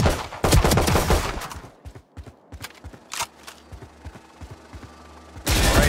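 Rifle fire in Valorant training, quick rattling bursts of close gunshots at targets and bots, then sparser single cracks and mechanical clicks through a quieter stretch, before a loud burst returns at the end.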